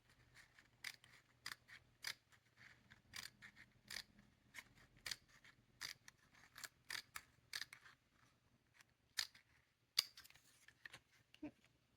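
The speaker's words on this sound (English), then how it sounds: "we cut the connected fringe paper in half to release the frills." Scissors snip through fringe paper for a quilling craft in a run of sharp, close cuts, each a crisp click in an irregular rhythm against a very quiet background.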